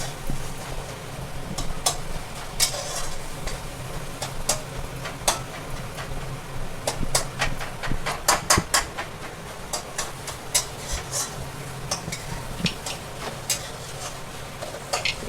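Chicken masala sautéing in a pan: a spatula scrapes and taps against the pan in irregular clicks, with a low sizzle beneath and occasional louder knocks, close and moderately loud.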